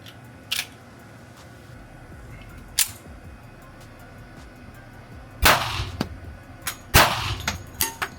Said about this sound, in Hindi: अब हम कीबर्ग की फुल साइज 1911 का सेकंड वेरिएंट जो कि स्टेनलेस स्टील फिनिश वाला है उसको टेस्ट फायर करेंगे